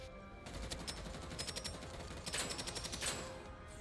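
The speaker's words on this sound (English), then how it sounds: "We'll try out the assault rifle while we're here." An assault rifle firing in the roguelike looter shooter Deadzo, rapid regular automatic bursts with sharp repeated cracks, moderately loud and close, with brief gaps between strings of shots.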